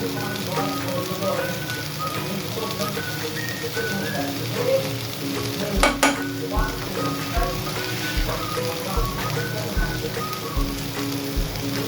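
Soya chunks fry in a pan for a dry roast, seasoned with salt and pepper powder, giving off a steady crackling sizzle with scattered pops. A short clatter comes midway, and a voice can faintly be heard.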